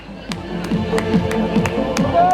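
A handful of separate, sharp claps ring out at a triathlon prize-giving podium in Troyes, spaced unevenly over crowd murmur and people talking nearby.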